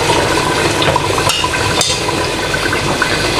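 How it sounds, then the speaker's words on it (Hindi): Two glasses of water poured into a pot of cooking beef haleem, a steady close splashing rush running evenly for a few seconds. "2 गिलास में पानी डाल रही हूँ।"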